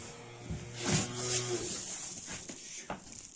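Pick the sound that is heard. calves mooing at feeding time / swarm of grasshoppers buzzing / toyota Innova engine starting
calves mooing at feeding time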